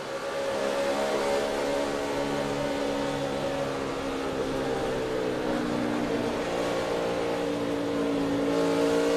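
Denny Hamlin's NASCAR race car during the 2009 Kobalt Tool 500 at Atlanta, heard onboard: a steady, loud engine drone with layered harmonic tones holding near constant pitch throughout, with no voices.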